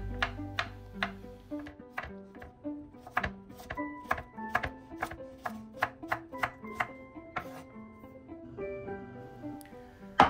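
Knife chopping ridge gourd on a board for a shrimp curry, a steady run of crisp close taps in quick rhythm, some spaced and uneven, with no voices.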